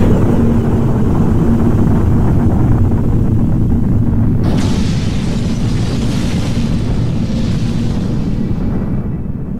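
Hydrogen bomb explosion: a loud, sustained low roar and rumble with a sudden brighter surge partway through, then slowly fading, with no voices.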